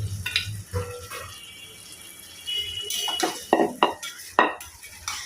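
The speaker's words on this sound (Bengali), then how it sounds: "এখানে মাছগুলাকে আগে কষায় তারপর উঠায় ফেলবো" Fish being stir-fried with spices in a pan, heard as a quiet scrape of a utensil and clatter against the pan in short bursts, with soft sizzling underneath and no voices.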